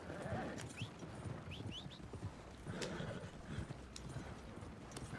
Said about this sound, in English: Horse is actually following